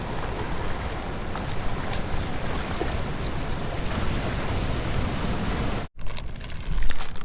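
Creek water rushing and splashing while someone wades across on foot during a backpacking trip along the West Coast, a steady close wash of water with a brief break near the end.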